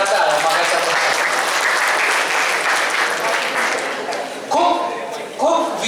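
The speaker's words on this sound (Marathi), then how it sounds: "चला या सगळ्या 15 ते 20 लोकांसाठी एका जोरदार टाळ्या मागायचा" Loud, dense applause from an audience at a student encouragement session, sustained for several seconds and fading slightly near the end, with brief voices breaking through over the clapping.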